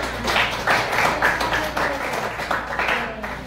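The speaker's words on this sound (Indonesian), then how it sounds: "Oke, berikan tepuk tangan." Students in a classroom clap after a group presentation, a modest, uneven patter of hands at moderate distance that continues for a few seconds, with faint voices underneath.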